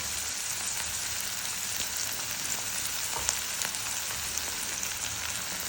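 Spices being stirred into sev tomato curry in a pan, a steady soft sizzle with faint scraping of the spoon, no talk.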